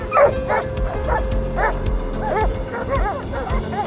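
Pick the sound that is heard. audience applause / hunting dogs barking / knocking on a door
hunting dogs barking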